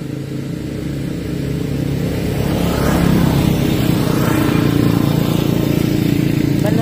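A motorcycle engine passes nearby, its steady drone swelling louder and holding at full volume as the bike goes by, with no speech over it.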